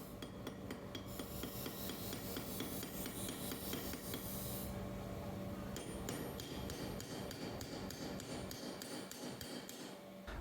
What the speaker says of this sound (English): we use a ball hammer, and you hammer in the middle of this using a ball